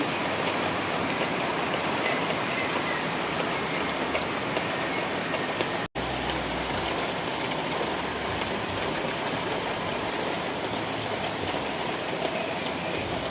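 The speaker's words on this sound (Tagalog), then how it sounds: "Malakas ng ulan." Heavy rain pours steadily in a dense, unbroken hiss, drumming on surfaces nearby, with no voices.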